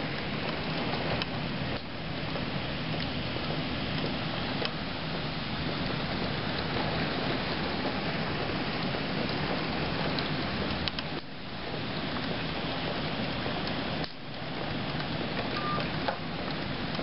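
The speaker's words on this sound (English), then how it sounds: "It's raining and behind my back here." Steady rain falls and drips outdoors during a storm, a continuous close hiss with brief dips. No one speaks.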